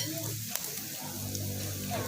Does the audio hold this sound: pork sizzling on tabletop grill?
yes